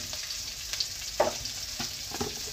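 Cumin seeds tipped into hot oil, frying with a steady close sizzle and a few soft stirring scrapes and pops scattered through.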